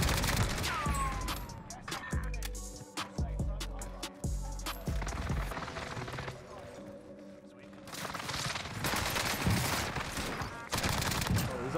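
Gunfire in Call of Duty on Rebirth Island: rapid, close bursts of automatic fire and single cracking shots, sometimes dense and overlapping, with short lulls between exchanges and game effects around them.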